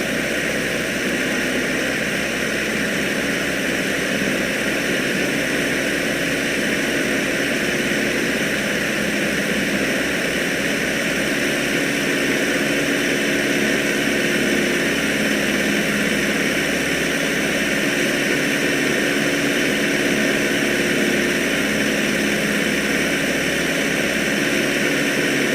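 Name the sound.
aircraft engine in video game Microsoft Flight Simulator X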